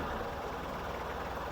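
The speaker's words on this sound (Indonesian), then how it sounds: "kalau mesin kita dengar dari sini masih sangat halus" A car engine idles smoothly with a low, steady rumble, close by and unbroken, with no voices.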